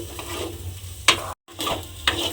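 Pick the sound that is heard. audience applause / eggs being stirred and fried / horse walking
eggs being stirred and fried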